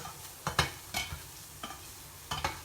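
Chickpeas coated in spices are stirred in a hot pan, giving a handful of separate scraping clacks against the pan over a low, steady sizzle, with no talking.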